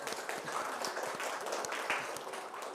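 A group of people applauding after a classroom group presentation, a continuous moderate patter of many hands clapping for a few seconds, heard from a short distance with no talk.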